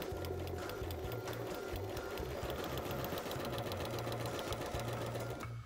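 A sewing machine runs steadily through a quilt's foundation paper piecing line, giving a fast, even mechanical whir and needle chatter that holds unbroken for several seconds close to the mic, then stops abruptly.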